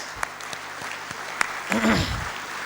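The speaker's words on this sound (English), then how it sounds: "we'll give you a round of applause" A crowd at an anniversary celebration claps together in a steady round of applause, with a few sharper claps near the front and a brief voice breaking through over the clapping.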